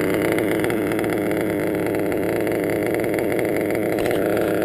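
A .28 nitro engine idles upside down with a steady, loud, buzzing drone that holds an even pitch throughout, close up and with no talk.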